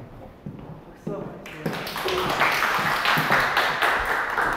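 Applause from a seminar audience starts with a few separate claps and quickly fills into steady clapping, with a voice speaking at the start.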